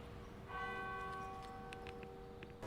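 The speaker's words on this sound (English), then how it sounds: "which is why you can hear the bell going in the background" A church bell rings with a sustained, resonant tone in Dean's Yard, against a quiet outdoor background, with a brief noise near the end.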